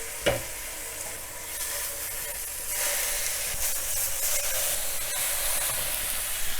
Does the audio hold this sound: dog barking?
no